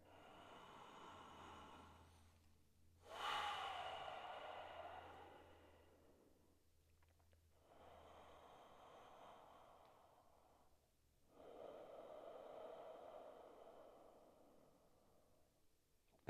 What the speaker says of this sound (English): A few rounds of breath here.